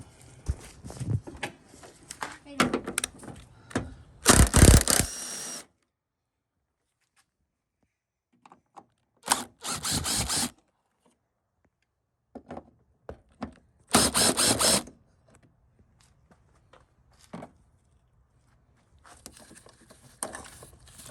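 10mm bolts being removed from a Ford F-150 headlight housing with a ratchet, heard as several separate bursts of quick, close clicking separated by silent pauses.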